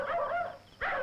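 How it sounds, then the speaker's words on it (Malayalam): Native dogs bark in two short, sharp bursts separated by a brief pause, fairly close and clear. "നാടൻ പട്ടികൾക്ക് ഇത്ര ശൗര്യം ഉണ്ടെന്ന് എനിക്ക് ഇപ്പോഴാ മനസ്സിലായത്"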